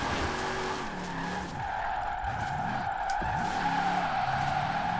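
A Jeep Gladiator drifting in Forza Horizon 4, its tires squealing in repeated long wavering skids over a steady engine drone, loud and close.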